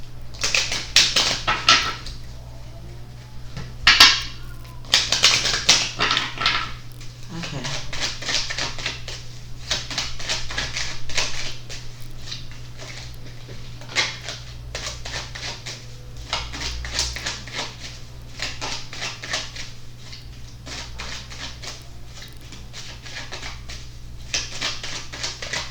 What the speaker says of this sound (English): let's pull these cards